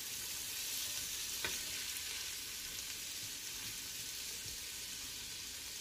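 Tomatoes and garlic fry and get stirred in a Ninja Foodi for charro beans, a steady close sizzle running throughout with a single sharp scrape of the spoon partway through.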